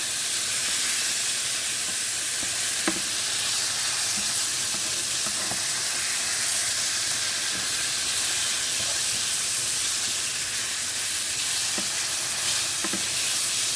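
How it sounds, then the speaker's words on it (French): Lardons fry in a pan with a steady, close hiss and sizzle. Faint pops and crackles break through now and then, and no one speaks over it. "Là, les lardons cuisent tranquillement."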